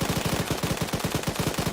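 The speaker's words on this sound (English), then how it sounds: "Sounds like gunfire from multiple rounds." A rapid, even burst of automatic gunfire in a video game military simulation, about twenty loud closely spaced shots firing continuously without pause.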